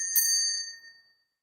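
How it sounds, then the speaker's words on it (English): A ritual bell is rung once to open a ritual circle: a bright, clear metallic ding that rings on and fades out smoothly within about a second. "let's open up the circle with this"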